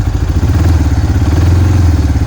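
An engine, either the Mikilon Hardy or the Linhai M170, revved with the throttle, giving a loud, steady, deep droning roar with a throbbing pulse that holds up close for the whole stretch.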